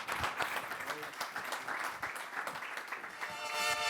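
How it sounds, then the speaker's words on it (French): Audience applause at the NEXTSPACE 2022 conference testimonials session, a steady wash of many hands clapping that swells slightly toward the end, with some voices mixed in. "vous pouvez les applaudir"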